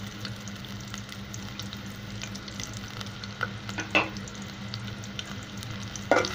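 Chopped onion frying in a hot pan for an okra and shrimp curry gives a steady, close sizzle with faint crackles and a few soft stirring clicks throughout.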